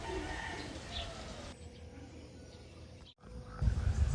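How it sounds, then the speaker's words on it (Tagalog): Soft cooing of a dove with faint chirps from many other birds in the background, quiet and outdoors in the morning, with some low rustling noise. "Pagka ganito po palang umaga dito sa PB House, ang daming mga ibon."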